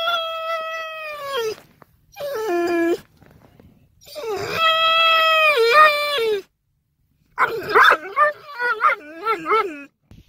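A tied-up dog whimpers and whines in long, high, wavering cries that come in several bursts with short pauses between them, loud and close.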